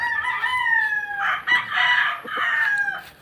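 A young gamefowl stag, a Gilmore hatch and McLean cross, crows loudly and close, one long drawn-out crow followed by shorter clucking calls, with no voices over it.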